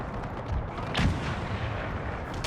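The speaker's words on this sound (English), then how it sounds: "They just fired. I'm pretty sure they fired canister." Cannon firing canister shot in a Napoleonic-era battle game, deep booming blasts with one loud near shot and rumbling reports, heavy low rumble continuing between firings.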